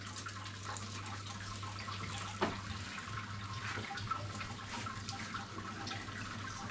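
Water runs steadily into a large metal brewing pot for a Munich lager, a continuous broad hiss with a low steady hum underneath and one brief knock partway through.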